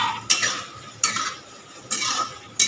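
A utensil stirs pasta into a cauliflower curry in a pan, giving four sharp scraping strokes at regular intervals with faint sizzling between them, close and clear with no talking.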